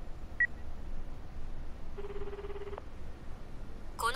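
A telephone call tone from the video game Akiba's Beat plays as a short steady electronic tone over soft background game sound, with a couple of brief beeps around it.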